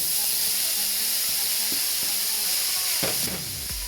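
Vegan stir-fried noodles with vegetables and tofu give a steady, loud hiss and sizzle in a hot pan, with a few soft clatters of stirring near the end.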